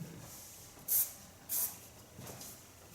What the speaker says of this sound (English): On top of that I do a little bit polish spray